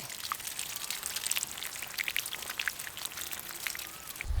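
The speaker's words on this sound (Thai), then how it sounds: "นำชิ้นบอลสีมาล้างน้ำให้สะอาด จนกว่าจะหมดน้ำยาง" Cut caladium tuber pieces are rinsed by hand in water, giving a continuous close splashing, dripping and trickling with small sloshes throughout.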